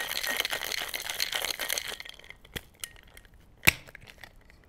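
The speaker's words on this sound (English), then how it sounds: "I'm going to shake it a little more." A cocktail is shaken in a glass shaker, giving a dense rattling, hissing wash for about two seconds, then a quieter stretch with a few sharp glass clinks and taps.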